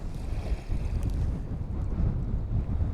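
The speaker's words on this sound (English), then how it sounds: "Yeah, that wind's getting up." Wind buffets the microphone while kayak fishing at sea, a constant low rumbling roar with gusty swells mixed with faint water movement around the boat.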